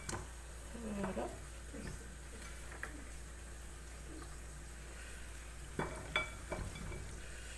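Potatoes and fish being stirred in marinade in a pot, faint scraping and clinking of a utensil against the pot in scattered strokes, with a few sharper knocks near the end against a quiet background hum.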